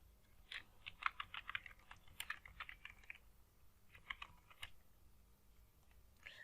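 Fingers type an ad message on a computer keyboard: bursts of quick, light key clicks, a pause, then a shorter flurry of keystrokes, close but quiet, with no talking.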